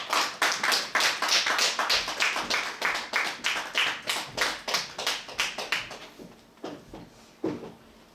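A church congregation at a Sunday service claps in a fast, even rhythm to welcome a visiting pastor, the crowded claps loud and steady before thinning out into a few scattered ones.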